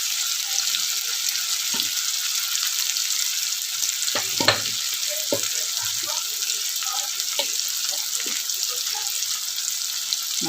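Mung and matki sprouts fry in hot oil with turmeric and coriander powder for usal, giving a steady, close sizzle broken by scattered stirring clinks and scrapes.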